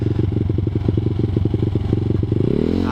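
A ZS190 Grom clone motorcycle putters loudly at close range while riding, its engine pulsing rapidly with a shift in rhythm and rising pitch near the end as it changes gear.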